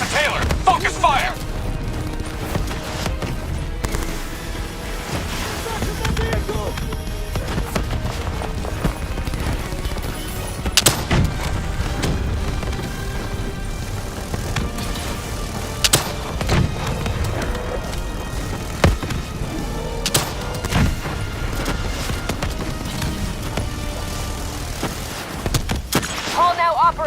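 Gunfire in a Call of Duty Black Ops 3 battle against the Manticore, a steady barrage of shots and impacts running throughout under dense game music, effects and voiced commands.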